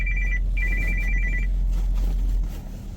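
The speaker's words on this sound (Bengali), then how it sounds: "সিট বেল্টের সাউন্ডটা শুধু করতেই থাকবে" A Toyota Noah/Esquire Hybrid's seat belt warning chimes in rapid, repeated high beeps over a low, steady engine rumble, then falls quiet.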